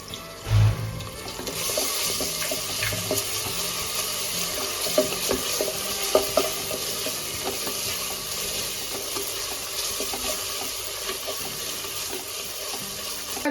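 Ginger garlic paste frying with lightly browned onions in a pot, a continuous close sizzle with stirring scrapes and a few louder clatters near the start.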